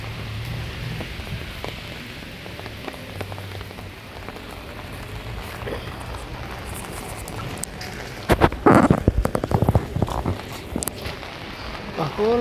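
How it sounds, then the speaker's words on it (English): Heavy rain pours steadily onto a street in Nairobi, Kenya, a continuous hiss of drops on the surfaces, with closer splashing and footsteps in the puddles growing louder toward the end. "So it has been a whole night of downpour."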